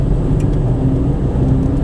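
An automatic Peugeot 107 running on LPG changes gear, with a steady, loud, close engine drone and a slight shift in pitch partway through.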